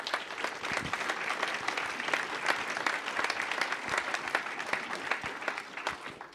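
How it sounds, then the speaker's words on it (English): An audience claps steadily for board members, staff and volunteers at an annual prairie event, a dense, even wash of hand claps with no voices over it. "so please give them a round of applause."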